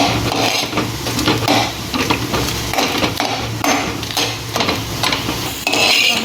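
Dry red chillies, garlic and tamarind roasting in sesame oil in a pan, a loud continuous sizzle and crackle with busy, repeated stirring scrapes throughout.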